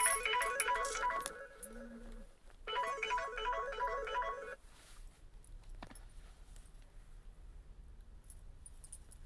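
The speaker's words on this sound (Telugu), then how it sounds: "వీడియో కాల్ ఎవరు?" A phone plays a melodic ringtone for an incoming video call, two repeated ringing phrases in the first half, then quiet room noise with a faint click.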